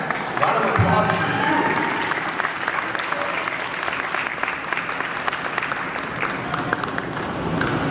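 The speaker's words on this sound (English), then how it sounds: "round of applause for" Sustained applause from an audience at a campaign event, steady and loud throughout, with a brief swell near the start and scattered cheers mixed in.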